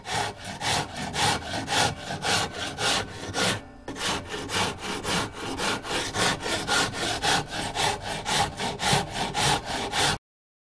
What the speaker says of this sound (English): got my Shinto rasp